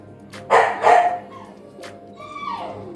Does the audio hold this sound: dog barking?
yes